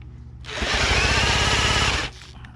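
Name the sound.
power drill cranking outboard motor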